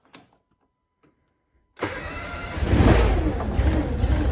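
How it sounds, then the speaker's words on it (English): Japa 395 firewood processor engine cranks after near silence, catches and settles into a loud, steady mid-pitched running roar that grows slightly fuller. "I'm going to start the machine up now"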